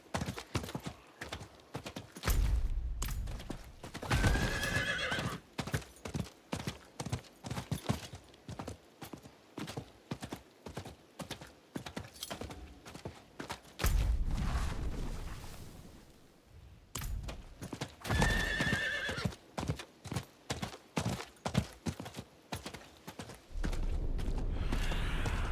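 Horse hooves clip-clop in a steady galloping rhythm from a mount in the video game Diablo IV, with creaking tack and a couple of loud whinnies rising over the hoofbeats, no talk.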